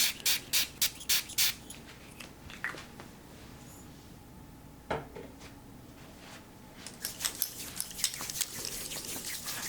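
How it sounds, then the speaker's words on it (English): A run of six quick, crisp spray bursts onto hands at the start, then a quiet pause, followed by another cluster of short sprays near the end. "And I'm going to spray my hands 6 times as well."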